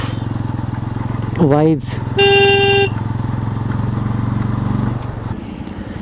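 A motorcycle ride along a cold Uttarakhand mountain road near Chakrata, the engine droning steadily throughout while a horn blares briefly and a voice speaks near the end.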